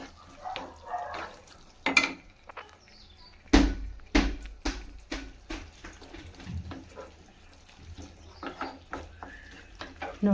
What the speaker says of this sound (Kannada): ಪುಡಿಯನ್ನು ಸಹ ಹಾಕಿ ಚೆನ್ನಾಗಿ ಫ್ರೈ ಮಾಡಿದ್ದೀನಿ